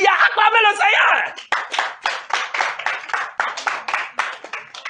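A church congregation claps together in a steady rhythm while acclaiming the Lord, with loud voices calling out at first and then lively, evenly spaced handclaps throughout.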